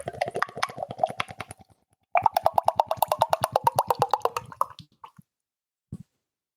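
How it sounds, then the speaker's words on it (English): Thick beer glugs from a bottle into a glass in rapid rhythmic pulses, pauses briefly, then resumes in a steadier run of glugs before tapering to a couple of final drips, close and clear with no talking. "I hope you could hear the sound of the pouring at Niels"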